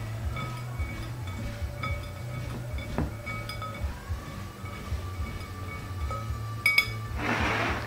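A utensil mixes stuffing with pepper in a bowl for stuffed pork, giving scattered light clinks and taps against the dish over a steady low kitchen hum, with no talking.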